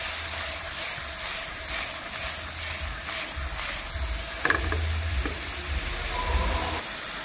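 Paneer cubes fry in hot oil with a steady, close sizzle, broken by a few clinks and scrapes from stirring, and a low background hum runs underneath.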